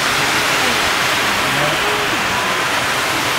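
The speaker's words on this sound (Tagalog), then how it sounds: "ganito po yung sitwasyon pag mag-ulan dito" Heavy rain pours steadily onto a metal sheet roof of a family home, a dense, even hiss of water that stays loud and unbroken throughout with no voices.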